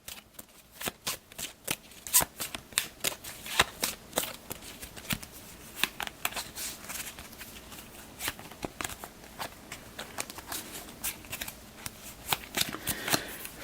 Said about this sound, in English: As we're drawing initiative cards.